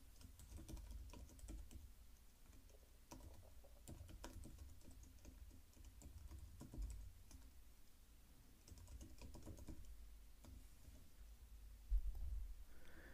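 Typing on a computer keyboard while entering new user details into a web form, a quiet, steady run of soft key clicks over low background hum, with one slightly louder clack near the end.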